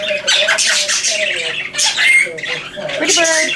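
A pet bird squawks loudly and close up in harsh, repeated bursts that run almost continuously.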